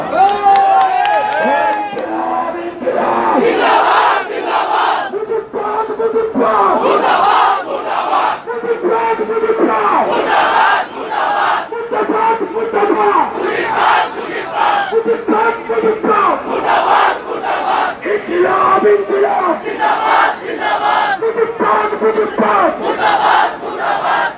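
Large outdoor political rally crowd chanting slogans in unison, loud rhythmic call-and-response shouts repeating in bursts with whoops and cheering, close and dense throughout.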